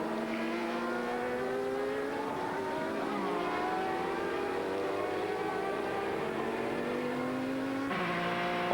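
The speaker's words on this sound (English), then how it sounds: "They've carried Jarrett Schroeder through with them in this fight in the 95 TRV Riley and Scott there" A Riley and Scott prototype race car screams around the circuit in a 2000 Grand Am race, its engine droning continuously with rising and falling pitch through gear changes, moderately loud and steady.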